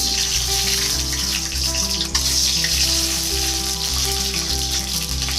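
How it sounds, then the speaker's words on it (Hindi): Eggs sizzle and crackle in hot oil in a kadai, a steady, close frying hiss with faint repeated low thumps underneath and no talking. "अभी मैं इसमें अंडों को डाल दूँगी।"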